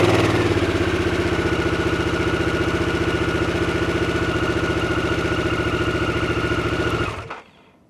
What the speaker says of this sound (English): start the bike up.